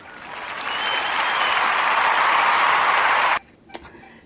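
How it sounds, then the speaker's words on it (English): A round of applause from an audience, dense steady clapping building quickly and holding for about three seconds before cutting off abruptly, followed by a faint click. "give him a round of applause."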